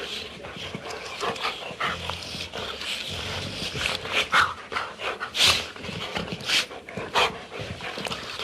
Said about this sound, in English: an unusual training tool, a CD of dog laughter